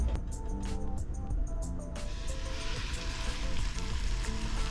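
Crappie fillets frying in hot canola oil in a pan, a steady loud sizzle and crackle that swells into a dense hiss after about two seconds as the fish settles into the oil.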